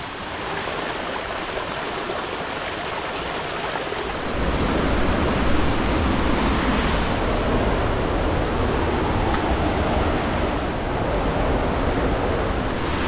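Stream water rushing at Linville Cathedral Falls, a steady broadband roar close by that swells louder after a few seconds and holds, with no voices.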